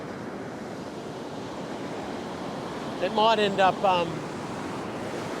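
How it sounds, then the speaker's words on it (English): A big set of ocean waves breaks on a beach, a steady wash of surf roaring under wind buffeting the microphone, while someone speaks briefly over it. "Here comes a big set. Look at this, heaps of waves coming in."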